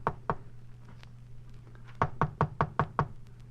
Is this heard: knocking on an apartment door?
yes